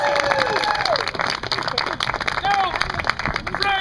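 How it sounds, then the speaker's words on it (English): An audience applauds and cheers after a musical theater performance of Shakespeare's Tempest, dense clapping mixed with excited shouts and whistles, some voices of children audible in the crowd. "He takes his bow. You applaud."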